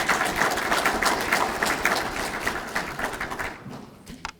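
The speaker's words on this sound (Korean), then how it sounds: "큰 박수로 맞이해 주시기 바랍니다" An indoor audience at a political constitutional-reform debate forum claps to welcome an arriving guest, dense sustained applause that thins out near the end into a few scattered claps and knocks.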